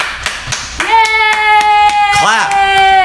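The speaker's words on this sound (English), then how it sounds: "Yay! Clap." A handful of sharp hand claps from podcast hosts, spaced irregularly, while a voice sustains a bright, drawn-out cheering tone over them near the mic.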